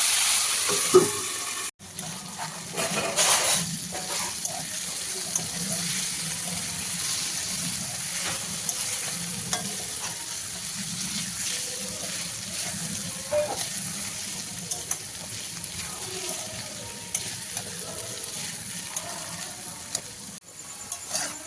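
Potato slices frying in a covered pan for aloo bhaja, a continuous, even sizzle with faint steam hiss, fairly loud and close, with a few soft knocks near the start.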